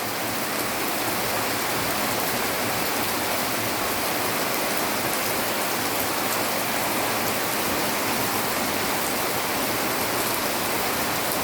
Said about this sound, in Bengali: বৃষ্টির শব্দের মধ্যে একটা আলাদা সৌন্দর্যই আছে।